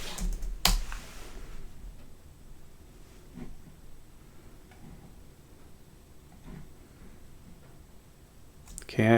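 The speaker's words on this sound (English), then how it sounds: "I'm gonna type in my password." Password keys are tapped on a computer keyboard, a sparse run of soft, close clicks spread over several seconds in a quiet room, with a sharp knock near the start and another at the end.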